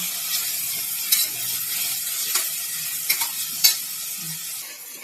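Sliced tomato sautés with ginger garlic paste in a hot pan for a jackfruit biryani, a steady soft sizzle broken by a few scraping stirs and light utensil taps, with no talking.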